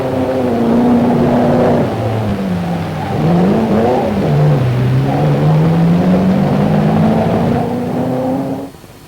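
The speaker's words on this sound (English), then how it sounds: "This Bugatti was really put through its paces at pre-war Prescott." A pre-war Bugatti racing car climbs the Prescott hill climb, its engine note loud and close, rising and falling through gear changes before cutting off abruptly near the end.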